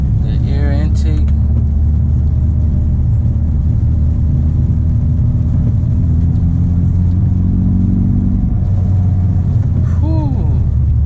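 A flooded Mitsubishi Evo engine lagging and failing to build boost while driving, a loud, close, steady low rumble with uneven, sputtering surges, and people talking over it.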